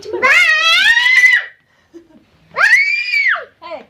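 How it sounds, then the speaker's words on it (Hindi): A child screams loudly and close, a long shrill wail followed after a short pause by a second high scream and a brief yelp, with faint murmuring in the gaps. "चिल्लाती है गंदी"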